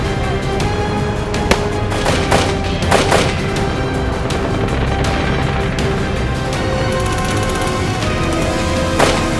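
Several sharp blasts and bangs ring out over a constant rumbling background, spaced irregularly, some close and loud, others more distant.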